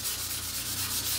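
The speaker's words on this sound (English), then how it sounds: "now we're going to use some 320 grit sandpaper and just go over pretty lightly" Steady, light sanding of kitchen cabinets with 320 grit sandpaper, a soft continuous rubbing hiss close by, with no talking.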